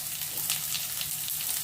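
Cauliflower and spring onions fry in hot tempering oil with a steady, close crackling sizzle and scattered sharper pops across a short stretch.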